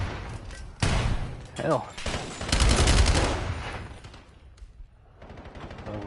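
Rapid SMG gunfire from a Black Ops 7 match crackles in bursts throughout, mixed with game effects while a commentator talks over it.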